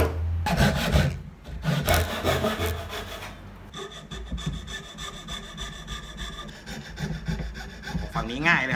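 Scroll saw cutting through soft pallet wood, a close, steady rasping buzz of the fine blade chewing along the cut, with brief pauses and changes in pitch as the board is fed.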